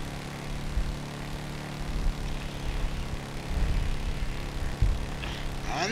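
A propeller airplane's engine drones steadily through a landing in Grand Theft Auto V, with a dull low thump near the end. The hum is continuous and fairly loud, with no talk over it.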